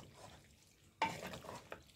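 Spicy chicken macaroni stirred in a pan, a near scraping stir that starts abruptly after a second of quiet, with a soft sizzle underneath and a brief clink near the end.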